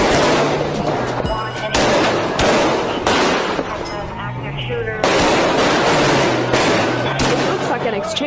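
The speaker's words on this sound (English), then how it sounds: "An exchange of gunfire right out of a Hollywood action movie." News footage of an exchange of gunfire: sharp repeated shots in bursts, loud and reverberant, with a voice talking between volleys.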